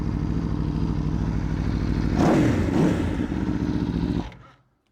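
An Aprilia RSV4 1100 Factory with an Akrapovic exhaust idles on a cold start, a steady, loud, close burbling engine note that swells briefly in a short rev, settles, then cuts off and fades to silence.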